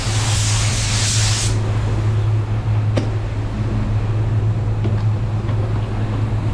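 Spray gun laying a light dusting of paint onto a car bumper: a loud, close hiss of spray for the first second and a half, then it cuts off, leaving a steady low hum from the shop.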